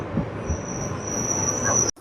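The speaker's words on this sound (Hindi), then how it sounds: "फाइनली ट्रेन सुल्तानगंज खड़ी हो गई" Intercity Express train rolling to a stop at Sultanganj station, a steady rumbling rail noise with a sustained high brake squeal over it, loud and close, cutting off abruptly near the end.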